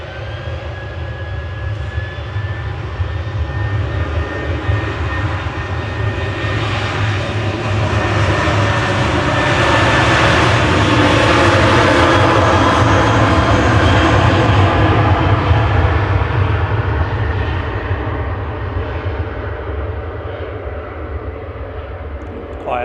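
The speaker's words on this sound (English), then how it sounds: "GFTZY 737-800 departing to Paphos for TUI." A TUI Boeing 737-800 jet departing Manchester Airport for Paphos builds from a steady rumble to a loud, sustained engine roar with a faint whine, peaking mid-way and easing off toward the end, heard alone.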